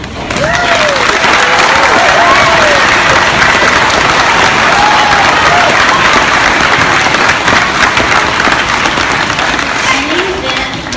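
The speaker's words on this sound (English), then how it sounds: "how about a round of applause for all the students that have performed?" A large audience at a student performance event gives loud, sustained applause, a thick roar of many hands clapping with cheering voices and shouts woven through it.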